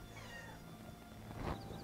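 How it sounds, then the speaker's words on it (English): A pet cat meows at close range, one drawn-out plaintive call rising slightly toward the end, faint against a quiet indoor hum with no talking. "And now I have Moosey meowing at me."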